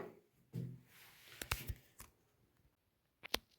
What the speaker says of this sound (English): Then we're going to cut it to size.